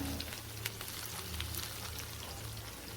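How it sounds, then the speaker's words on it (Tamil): Onions, green chilli and curry leaves sautéing in a pan for egg keema, a soft steady frying sizzle with occasional light crackles, fairly faint and continuous. "வெங்காயம் சேர்த்துக்கோங்க சேர்த்து நல்லா வதக்கிக்கோங்க"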